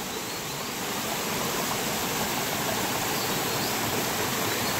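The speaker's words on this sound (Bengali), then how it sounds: "গভীর অরণ্যে সেই ঝর্ণার শব্দই" A waterfall deep in a forest gives a steady, dense, roaring rush of falling water, loud and unbroken throughout with no other sounds.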